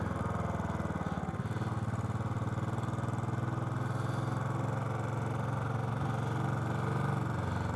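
A motorcycle engine idles steadily at a flood road closure near the River Murray at Blanchetown, South Australia, giving a low, even rumble with a slight shift early on, close by and alone.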